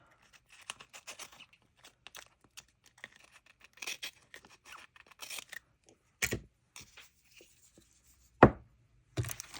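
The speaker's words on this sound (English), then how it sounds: "let me get my scissors. I'm going to cut this section off" Scissors snip a section off a piece of stamped craft paper, close-up with irregular crisp cuts and short pauses between, plus a couple of sharper snaps, no voices.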